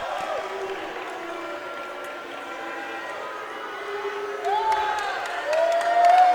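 Crowd at a men's college basketball tournament semifinal growing loud in a gym, a steady mass of voices that swells toward the end, with an announcer talking throughout.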